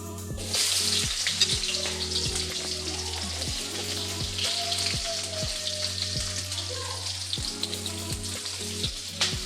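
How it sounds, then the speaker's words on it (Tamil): Onions sizzle and fry in hot oil with fenugreek seeds for a prawn curry, a continuous crackling hiss with regular stirring knocks throughout, close up and with no talking. "வெங்காயம் போட்டு நல்லா வதங்கி வரட்டும்."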